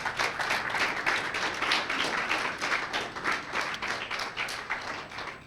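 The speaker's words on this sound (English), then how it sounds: "Clap for Bradford." Audience clapping at a University of Bradford alumni event in Ikeja, Lagos, a steady burst of applause from a large room lasting several seconds with no talk over it.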